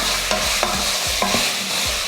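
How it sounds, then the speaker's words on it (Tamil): Mutton with turmeric powder and salt is stirred in a frying pan, loud and close, with repeated rhythmic spoon scrapes over a steady sizzle and no talk. "இதில் மட்டன் சேர்த்துடலாம். கொஞ்சம் மஞ்சள் தூள், தேவையான உப்பு. இப்போ கலந்து விட்டுருவோம்."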